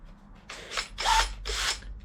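A hub cleaning tool spun by a power drill grinds against a Ford Puma front wheel hub in three short, loud whirring bursts, with brief pauses between them and no talk.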